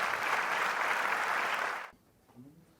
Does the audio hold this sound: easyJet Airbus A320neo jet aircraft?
no